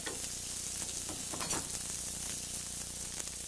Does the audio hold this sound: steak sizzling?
yes